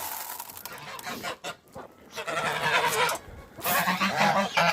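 Geese on a small farm honking repeatedly in uneven bursts at close range, with clucking fowl mixed in among the calls.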